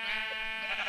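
A sheep in a Minecraft-style video game lets out one clear, wavering bleat, close and loud with no talk over it.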